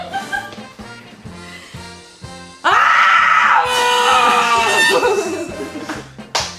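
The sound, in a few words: person screaming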